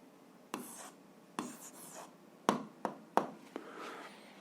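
Pen or pencil writing out an algebra answer by hand on paper: several short scratchy strokes with brief pauses between them, close and fairly quiet, with no talking.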